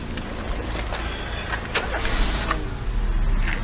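A car engine in a garage during an oil change cranks and catches, then settles into a steady, rumbling idle with a brief whine and clicks, fairly close and without talk.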